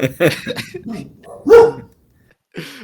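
Dogs bark in short, close, loud yips and bow-wows, a quick cluster of barks followed by a pause and one more bark.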